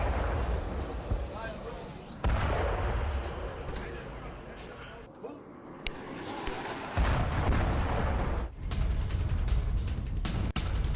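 An airstrike hits a residential area at night, with heavy booming explosions and sharp blasts over a continuous roar of rumble. Several loud impacts stand out across the span.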